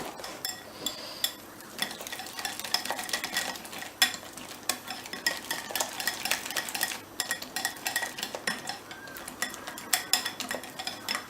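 A spoon stirs carrot soup in a pot, scraping and clinking against the sides with intermittent soft splashes, fairly quiet and without voices.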